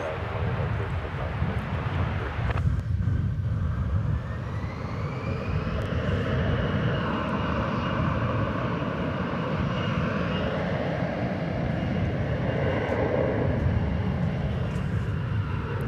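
An American Airlines Airbus A321 jet takes off at DFW Airport, its engines roaring steadily and loudly, with a rising whine near the start, over constant wind noise throughout.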